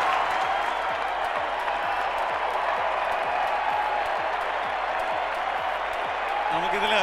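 A crowd at a film success celebration in a Lulu Mall venue claps steadily to welcome director Midhun Manuel Thomas, dense continuous applause with an even loud roar throughout, and a voice speaking over it.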